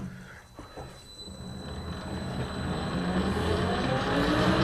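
A metal lathe turns a part at 715 RPM with a 5.2-thousandths feed rate, giving a steady whirring hum with a faint high whine that grows gradually louder and rougher as the cut continues.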